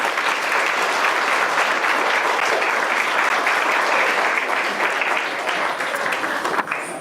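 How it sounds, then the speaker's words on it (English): An audience at a public library Hmong culture celebration gives a big, sustained round of applause as a speaker is welcomed to the podium, dense, loud clapping that continues unbroken and tapers slightly at the end. "please give her a big round of applause and welcome her to the podium here"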